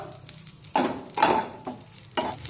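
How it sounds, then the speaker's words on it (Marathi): Grated fresh coconut roasting in ghee in a pan, sizzling softly while a spoon stirs and scrapes against the metal in several bursts, close and clear without speech. "दोन मिनिटे हे खोबरं छानपैकी तुपामध्ये परतून घेऊया"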